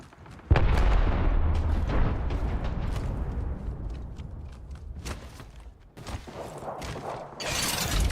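A frag grenade blast in the Apex Legends video game, a sudden loud close boom followed by a long rumbling, crackling tail that slowly fades, then a few sharp bursts of gunfire near the end.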